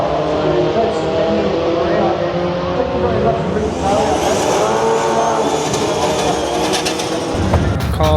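An SR20-engined drift car at a night drift event screams and revs hard, engine pitch climbing and wavering with tyre squeal, loud and close, with a sudden cut near the end.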